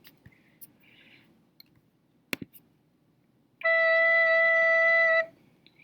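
A fingered wind instrument sounds a plain E, one clean sustained note held for under two seconds after a few faint clicks of key and finger movement in an otherwise quiet room.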